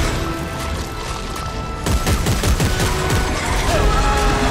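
Sustained SMG fire in Dead Space 3, a dense, continuous rattle of shots with clattering impacts that grows heavier partway through, with no talking.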